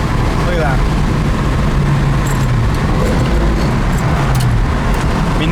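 A triple-black 1966 Ford Mustang coupe drives along the road with its windows down, a constant loud mix of engine drone, tire roar and wind rush heard from inside the car.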